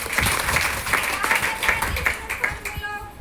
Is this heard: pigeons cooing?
no